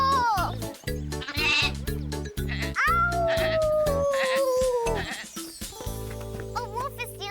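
Sheep bleat in a children's fairy-tale story, several long, wavering cries loud and close, with a few sharper calls and background music underneath.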